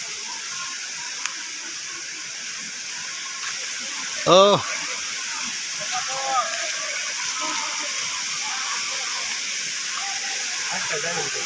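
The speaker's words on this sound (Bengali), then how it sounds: "হ্যাঁ ওই যে ঝর্ণা।" The Rupashi waterfall at Sitakunda pours out as a steady, broad rushing hiss in the background while people talk over it.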